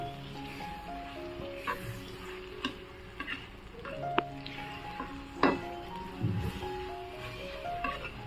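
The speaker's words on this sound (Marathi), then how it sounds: "छानपैकी आहे ना कांदा आहे ना परतून घेणार आहे" Chopped onion sautéing in a generous amount of oil in a pan for a wild-greens vegetable dish, a soft steady sizzle with occasional stirring clicks, partly masked by tonal background music.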